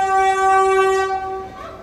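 A train pulls into a railway station in Serbia, sounding a loud, sustained horn chord that holds steady and then fades as the carriage rumble carries on underneath.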